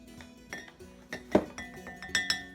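Glass jars clinking together as one is emptied into another while mixing an Ayurvedic hair powder, a scattered series of sharp, bright clinks and taps up close, some louder knocks among lighter ones.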